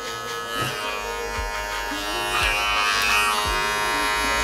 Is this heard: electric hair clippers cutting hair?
yes